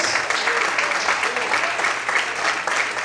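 A church congregation applauds during an evening service, a steady wash of many hands clapping together at an even level throughout, with voices faintly mixed in.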